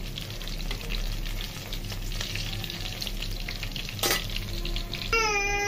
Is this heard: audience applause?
no